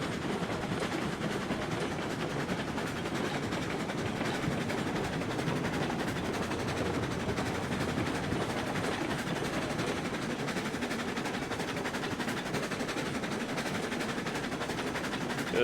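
A train in the video game RailRoads Online rolls steadily along the rails with a constant mechanical rumble and faint rhythmic clatter, moderately loud and unbroken, with no talking.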